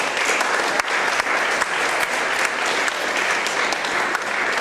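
Dense, sustained applause from a large audience at a political tour event honoring the Haitian masses, filling the whole stretch at steady volume with no talk over it.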